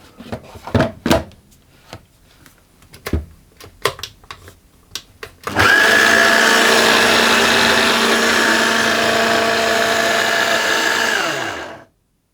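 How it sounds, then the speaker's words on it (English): A food processor blitzes a lemon zest and salt mixture, a loud steady motor whir starting abruptly after several clicks and clatters, running for about six seconds before cutting off. "I'm just going to give those a little bit of a blitz to get those combined a bit"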